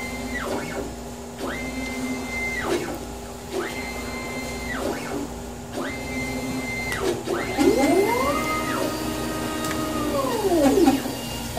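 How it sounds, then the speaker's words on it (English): A Lawson Focus-CTS screen printing machine runs through repeated cycles of steady mechanical whirring as its print carriage sweeps and automatically returns, the motor whine rising and falling in a regular rhythm at close range. "notice how the print carriage automatically moves back."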